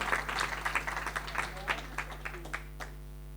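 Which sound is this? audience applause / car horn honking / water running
audience applause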